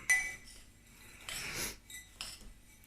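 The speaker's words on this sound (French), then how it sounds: "On mélange bien." A spoon works a homemade cereal bar mixture in a bowl, making quiet scraping swishes and light clinks in short bursts separated by near silence.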